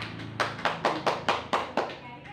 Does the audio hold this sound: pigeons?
no